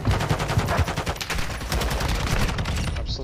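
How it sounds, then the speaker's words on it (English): Rapid bursts of video game gunfire crackle through a competitive match of the shooter Valorant-style round, dense overlapping shots rattling steadily for several seconds, loud and close with no talk over them. "You fucking hear the shooting?"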